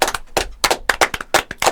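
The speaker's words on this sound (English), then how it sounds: "I think we just got to give him a round of applause." A short round of applause from a few hands, quick, close, uneven claps in rapid bursts lasting under two seconds.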